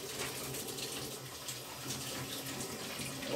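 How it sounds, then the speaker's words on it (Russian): Tap water runs steadily into a sink while hands are rinsed under the rusty, dirty flow, a continuous close splashing hiss with no talk. "Я руки сполосну."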